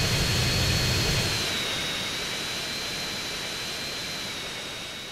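A jet airliner on final approach in GTA San Andreas roars as a broad, steady rush with a thin whistling tone above it, loudest at the start and fading gradually as it passes, with no voices.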